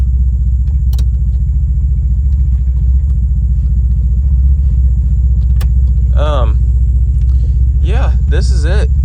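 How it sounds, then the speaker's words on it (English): A Mazda Miata engine runs roughly after a bump start, a steady low rumbling idle that keeps going throughout, with a few clicks and a voice speaking over it near the end. "so I got the Miata started and got it in, did a little bit of a bump start"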